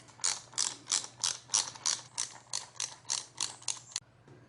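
Hand ratchet tightening luggage mount bolts on a 2021–2022 Aprilia Tuono Factory V4, heard as about a dozen evenly spaced rasping clicks in a steady rhythm, close and fairly quiet, with no talk.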